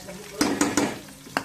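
Coriander and mint dropped into hot tempering oil for a chicken dish, giving a soft sizzling hiss with a few brief louder bursts of crackle and stirring clatter, close and fairly quiet.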